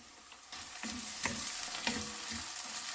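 Chopped onion and garlic sizzle and crackle in a hot pan, with a few scraping stirs, fairly quiet and close.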